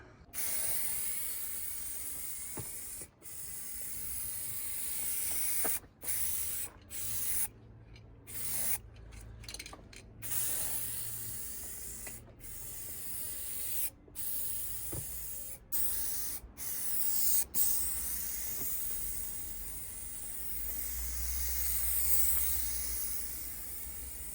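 Aerosol spray cans apply a coat of paint to a Porsche 997 body kit, giving long steady hissing bursts broken by brief pauses across the whole stretch, close and continuous, with no voices.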